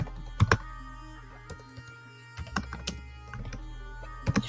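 Typing on a computer keyboard while writing CSS code, with scattered clicks and short bursts of keystrokes, close and fairly quiet, separated by pauses.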